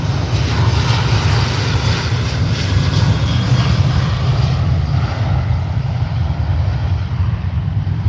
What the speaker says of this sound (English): Here's a Jet2 departing.